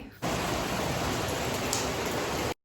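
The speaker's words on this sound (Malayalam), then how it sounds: "നല്ല സൗണ്ട് ഉണ്ട് മഴേൻ്റെ നിർത്താതെ പെയ്യുന്നുണ്ട് കേട്ടോ" Heavy early-morning rain pouring without a break, a dense, loud, even hiss that holds steady, then cuts off abruptly at the end.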